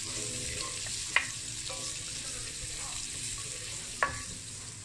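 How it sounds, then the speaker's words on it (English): Fat slowly rendering in a gradually heating pan for Amatriciana, a soft low sizzle with a couple of brief sharp clicks. "The pan will heat up slowly, so it will give time to the fat to render."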